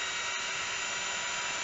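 Power drill boring a hole through a frozen food can, a steady close whine with a brief catch partway through, alone.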